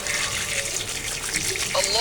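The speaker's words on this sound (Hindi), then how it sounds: "अब ये टिंडे धोते हैं अच्छी तरह से" Running tap water splashing and gushing over round gourds (tinda) being rinsed, close by, with handling noises and a voice speaking over it.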